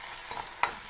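Aloo manchurian sauce thickened with slurry bubbling in a pan while a spoon stirs it, a soft steady sizzle with one brief louder scrape near the end.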